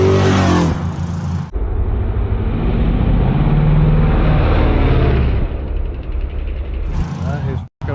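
A small high-pitched RC car motor, a 28mm motor on 3S, whines and buzzes past at speed, rising and fading, with brief voices at the start and end.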